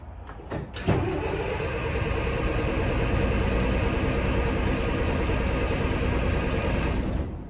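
A Leyland Atlantean bus engine that needs fuel priming briefly cranks, catches and runs at a steady, loud idle for several seconds before winding down, with no voices.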